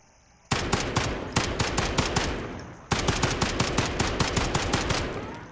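Rapid automatic gunfire from a tuned no-recoil weapon in Modern Warfare rattles out in two long, loud, close bursts of evenly spaced shots, with a brief pause between them and no voices.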